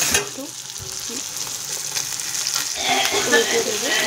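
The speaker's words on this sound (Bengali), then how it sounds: "আমার মাছগুলো ভাজা হয়ে গেছে" Small fish frying in oil in a pan, a dense, close crackling sizzle with scraping and stirring strokes as the pieces are moved and turned, growing louder toward the end.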